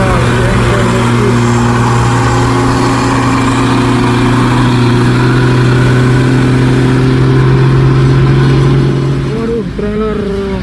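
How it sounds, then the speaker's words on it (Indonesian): A convoy of five trailer trucks, UD Twister among them, grinds uphill on Bukit Kodok, their engines droning loud, low and steady under voices before the sound eases off near the end. "Ada 5 unit ya, truk trailer. Konvoy menanjak bareng-bareng."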